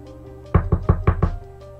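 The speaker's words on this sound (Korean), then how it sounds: "이렇게 두드리는 소리가 끈질기게 나는 겁니다" Five evenly spaced, close knocks rap on a door, a horror-radio sound effect, with a faint steady hum before and after.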